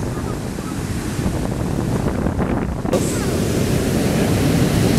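Surf and crashing ocean water near the shore during Hurricane Sandy, a steady loud broadband wash with heavy wind buffeting the microphone, rising slightly in the second half.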